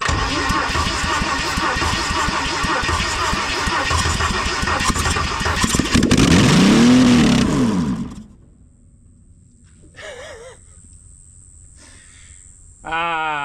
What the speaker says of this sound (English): Might get it cranking first before I throw some brake cleaner down it